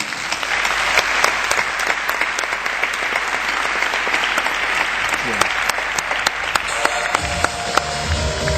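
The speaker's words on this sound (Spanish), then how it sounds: "pido por favor un aplauso para Stewart Butterfield" A conference audience applauds to welcome Flickr co-founder Stewart Butterfield onto the stage, full, sustained clapping filling the hall with a few voices mixed in beneath it.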